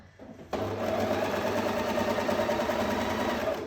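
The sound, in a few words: overlocker serger stitching a rolled lettuce hem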